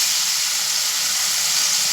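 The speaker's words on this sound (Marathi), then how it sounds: "थोडासा मसाला परतला गेला की त्याच्यामध्ये टोमॅटो टाकूया" Tomatoes hit hot homemade masala in a pan and sizzle, giving a loud, steady, bright hiss that runs unbroken and close with no talk over it.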